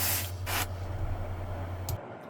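AK rust paint is sprayed onto a spoon in short hissing bursts from a nearby spray can, two quick sprays followed by a brief final puff, over a low steady hum.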